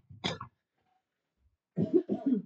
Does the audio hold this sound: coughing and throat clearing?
yes